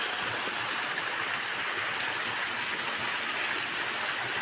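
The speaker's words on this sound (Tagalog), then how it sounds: "maliliit lang po ito na waterfalls." Small waterfalls make a steady, full rush of falling water, continuous and evenly loud throughout with no other sounds.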